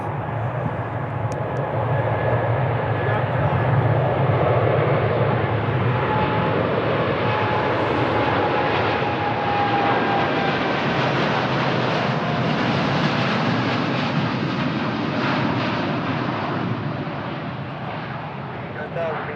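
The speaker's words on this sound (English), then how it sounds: "I can hear the spool up, big boy on to takeoff" Airliner jet engines spool up for takeoff at Lisbon Humberto Delgado Airport, a loud, sustained roar that swells and holds for the whole stretch, with faint radio chatter underneath.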